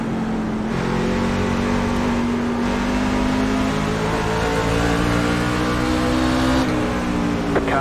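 NASCAR trucks race at Nashville Fairgrounds in iRacing: a close, steady engine drone with layered harmonics holds high revs throughout, with brief dips and shifts in pitch as other trucks run alongside.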